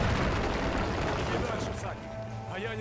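An explosion in the video game Darksiders 2, a loud rumbling boom that fades into lingering debris noise, with a voice talking over it.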